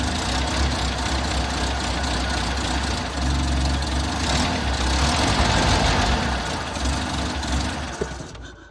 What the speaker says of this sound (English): I still have that odd idle, and it may be even worse now.